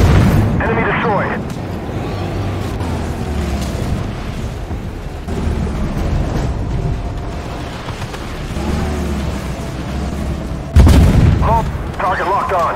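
Airstrike explosions in the combat video game Armored Warfare rumble and boom repeatedly, with a sharp loud blast near the end, under game music and spoken voice lines.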